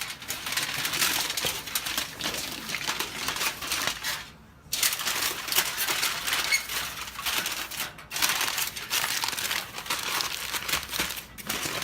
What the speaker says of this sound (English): we're going to get these wrapped up, and again, I'm not adding anything to the foil